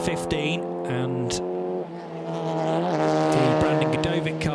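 A TCR touring race car corners at the Dubai Autodrome, its engine droning loud and close with rising and falling revs, a shift partway through, and sharp bursts of tire or curb noise.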